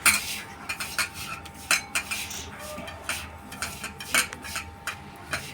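A spoon clinks and scrapes against a bowl while mixing chopped carrots and onions for a quick corn dish, a loose rhythm of sharp metallic taps and stirring strokes, close and clear with no talking.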